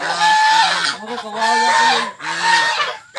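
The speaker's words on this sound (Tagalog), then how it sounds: "Gansa." Geese honk loudly and close by in repeated bursts of nasal calls in a mountain setting, with a person speaking briefly among the calls.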